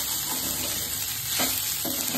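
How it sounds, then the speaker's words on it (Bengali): Meat frying in a pan gives a steady, close sizzle, with soft scrapes and stirring clatters breaking through now and then. "হয়ে গেছে মাংসটা ভাজা হয়ে গেছে,"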